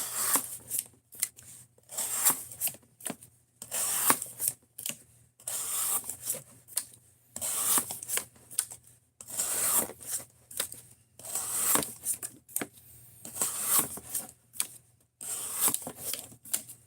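Rhythmic scraping strokes of an S35VN steel knife blade being worked on its bevel, repeated bursts roughly every second with short gaps, close and fairly clear with no talking.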